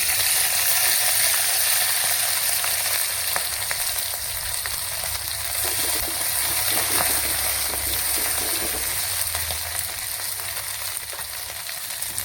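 Cumin seeds and garlic sizzle in hot oil in a pan for bitter gourd curry, a steady, close, crackling hiss that holds evenly throughout, with no talking.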